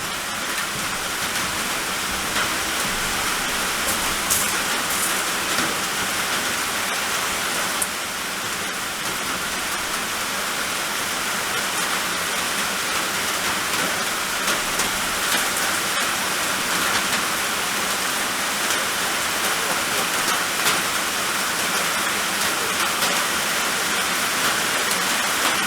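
Steady rain pours down around an off-grid cabin, a dense, even hiss of drops hitting surfaces that carries on unbroken and fairly loud throughout, with no voices.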